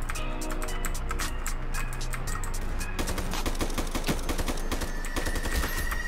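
Rapid automatic gunfire in the online shooter IronSight, dense bursts of shots fired back to back at close range, loud and continuous for the whole stretch.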